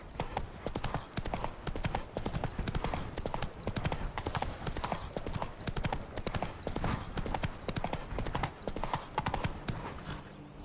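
Roach the horse gallops steadily in The Witcher 3 Wild Hunt, a continuous rhythmic clip-clop of hooves running throughout at close range, with no talking.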